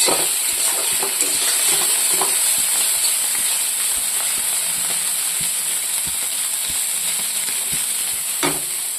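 Fish frying in a pan, a steady close sizzle and hiss with scattered pops and a few light clinks of cookware, no talk over it.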